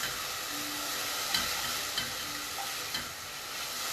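Onions fry and slowly caramelize in a pan outdoors in a garden on Ouessant, giving a steady, close, even sizzle with a few faint soft clicks of stirring, and no talking.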